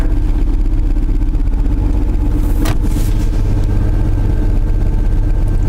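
A 1995 Chevy S10 pickup with a worn transmission input shaft bearing runs at a steady low idle, a constant close drone with a faint whine and one brief sharp noise midway, no talking.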